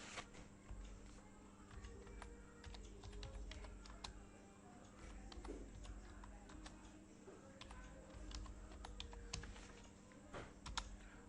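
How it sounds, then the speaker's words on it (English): Quick, uneven keystrokes on a computer keyboard as a command is typed at a Windows command prompt to test a USB drive's speed, the taps close and continuous over a low steady hum. "Now I will type the command."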